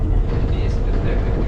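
A tram rolls past nearby in Budapest, Hungary, with a continuous heavy rumble and rattling wheels, loud and steady throughout.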